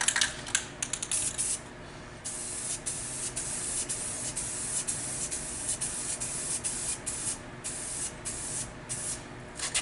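Spray paint hisses almost continuously from a can onto a Burger Time arcade cabinet, broken by short gaps between bursts, close and steady with no talk.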